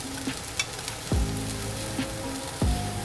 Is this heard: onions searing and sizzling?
yes